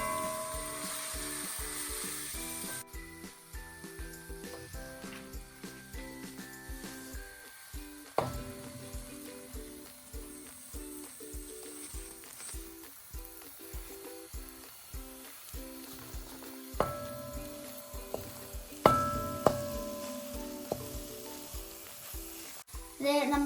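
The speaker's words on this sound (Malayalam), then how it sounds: "ഇനി ശരിക്കും ഇളക്കി മൂത്ത് വരണം." Masala for a salmon head curry sizzles and fries in a pan, a soft, constant crackle broken by repeated clacks and scrapes of stirring.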